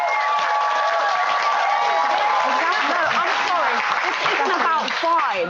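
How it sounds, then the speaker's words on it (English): A crowd cheers and applauds continuously for a female performer at a live show, loud and steady throughout, with shouts and whoops rising above the roar. "You see how they cheering her on."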